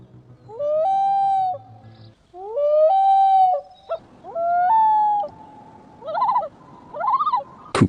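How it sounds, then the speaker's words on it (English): A loon gives long, eerie, wavering wails that rise and hold, followed by shorter quavering tremolo notes. The calls are clear and fairly close against a quiet background, with no voices. "Loon."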